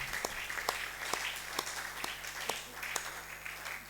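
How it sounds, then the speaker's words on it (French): A church congregation applauds at the end of a worship service, with steady rhythmic clapping from many hands that fills the room at moderate volume and continues evenly throughout. "Acclamons pour le Seigneur"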